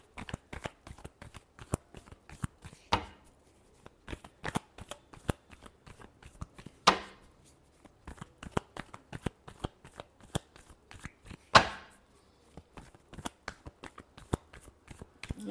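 Tarot cards being shuffled by hand, close and fairly quiet: a fast, continuous run of crisp flicks and riffles with a few louder bursts where the deck is bridged, with no talk.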